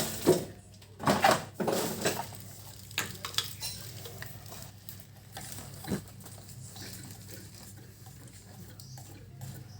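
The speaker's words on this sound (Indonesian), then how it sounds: "Berarti kita bersihin pakai kuas." A brush scrubs dirt off a Shimizu semijet water pump that had died from overheating. Dry scratchy strokes come in uneven bursts, loudest early on, then lighter intermittent brushing with a few sharp clicks.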